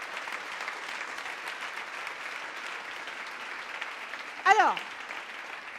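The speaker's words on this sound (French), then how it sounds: "Moi, j'ai envie que vous l'applaudissiez aussi" Sustained applause from an audience at the Hello Women 2023 event, an even wash of clapping throughout, with a speaker's voice breaking in briefly near the end.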